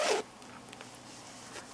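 Single quick zip of a zipper on a sewn shoulder bag pocket, a short bright rasp at the start followed by quiet handling.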